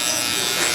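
Andis Master hair clippers running during a kid's bald fade haircut, a loud, steady, close electric buzz with no pause through the brief moment.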